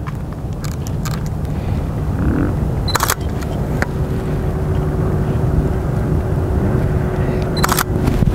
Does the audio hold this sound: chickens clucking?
no